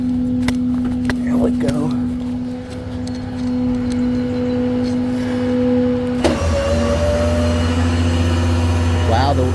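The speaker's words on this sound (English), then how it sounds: "I guess I could go ahead and winch it all the way up" Electric winch on a Jeep in a garage, a steady whining motor drone holding for several seconds, then dropping in pitch into a deeper strained hum, with someone speaking briefly over it.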